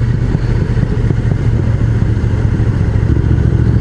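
A motorcycle engine drones loudly and steadily with low rumble and wind buffeting while riding a mountain road toward the Gorges de l'Arly near Megève, close and continuous without pause.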